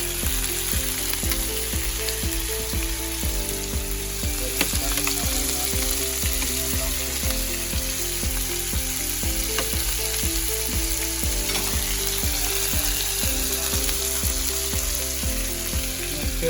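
Yakitori chicken pieces sizzling and frying in a pan with teriyaki sauce, a steady, close, continuous crackle and hiss with no voices.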